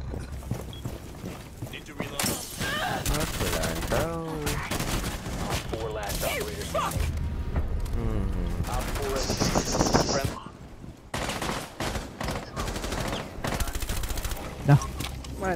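Gunfire in Rainbow Six Siege, including sniper rifle shots, sharp cracks and bursts scattered across an intense match, with players talking excitedly over the shooting.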